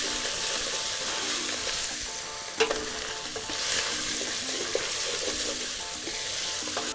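Tomato paste browns in a hot pan with a steady, close sizzle, broken by a few sharp scraping stirs and small pops.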